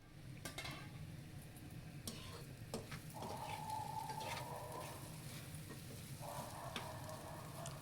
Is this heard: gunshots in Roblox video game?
no